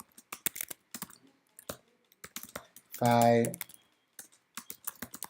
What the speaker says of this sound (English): it's a lot of manual typing